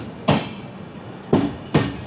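The Trivandrum Veraval Express rolls into Karwar station on the Konkan Railway, its wheels giving three sharp, loud clacks over rail joints against a steady rumble of running carriages.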